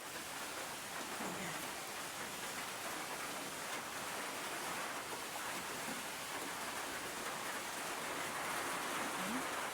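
Steady rain falls with a soft, constant hiss, moderately quiet and unbroken throughout, with no voices.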